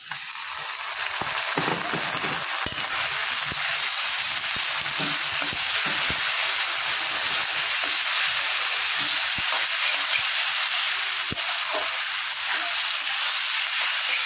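Onions with ginger garlic paste sizzling in hot oil for a mutton dish, a loud, steady frying hiss throughout with occasional soft clinks and scrapes of stirring close by.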